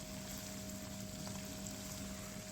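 Chicken pieces for white chicken biryani fry in a pan with a steady, even hiss that fills the whole stretch, with a faint constant hum underneath.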